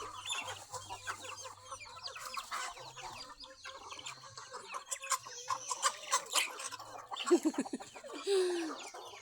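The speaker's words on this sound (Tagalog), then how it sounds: "Dami yan chicken guys." Pet chickens cluck busily while being fed, with a quiet, close chatter of many short clucks and squawks rising and overlapping.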